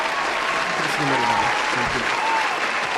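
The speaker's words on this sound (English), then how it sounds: "Let me get that applause going." Canned applause sound effect played on a wrestling news show: a steady, loud wash of crowd clapping and cheering, with faint voices mixed in throughout.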